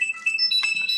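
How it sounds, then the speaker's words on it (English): Mobile phone ringing indoors, a bright electronic melody of short tonal beeps, clear and fairly loud with no voices over it. "Oop, that's my phone."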